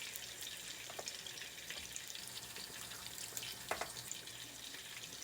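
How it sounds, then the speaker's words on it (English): Meatballs browning in a frying pan, a steady, soft sizzle of hot oil with faint crackles and occasional light scrapes, continuous and fairly quiet. "as they brown, I go dumping it into the sauce on the side."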